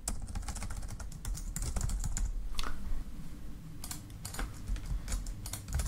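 Quick, steady keystrokes tap on a computer keyboard in a close, continuous run of clicks, with no voice over them.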